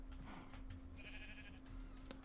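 A Minecraft sheep on a village farm gives a single short, nasal bleat in the middle of the clip, over a steady low hum and soft game background noise.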